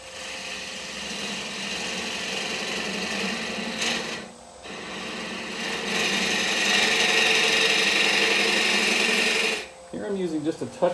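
A wood lathe spins a thin mulberry bowl as a gouge makes a light pull cut, a steady close scraping whir that pauses briefly, resumes louder, then stops with a few handling knocks.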